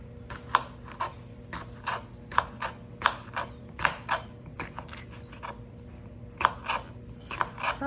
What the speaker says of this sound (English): we're going to cut up our jalapenos